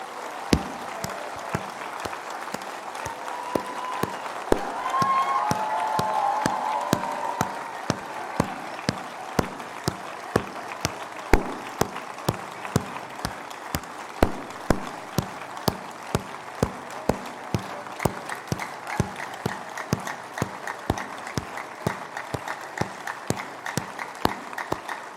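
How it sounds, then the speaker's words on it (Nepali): Sustained applause from an audience at a public event with Nepal's Prime Minister KP Sharma Oli, with many hands clapping steadily for about half a minute and sharp individual claps standing out throughout. "आधा मिनटसम्म जोरदार ताली लगातार बजाउँ त।"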